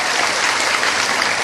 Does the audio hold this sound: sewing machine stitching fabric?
no